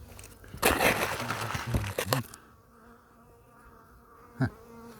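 Honeybees buzz loudly around an open hive during a queen check from a medium frame, with a dense swarm drone, a few sharp knocks and handling noises, then a quieter hum.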